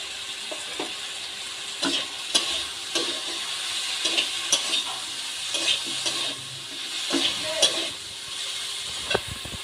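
Mustard water is poured into okra masala in a hot pan, a steady watery rush and sizzle punctuated by clicking and scraping stirring sounds.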